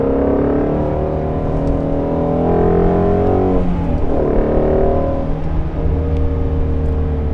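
A Ford Shelby GT350 with its flat-plane V8 rumbling steadily while driving, engine tone rising and falling through gear changes, heard from inside the car at moderate, even loudness.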